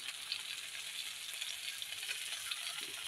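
Thin-cut vegetables frying in a pan after a little more oil is added, giving a soft, steady sizzle with fine crackles, faint and close, and no voices.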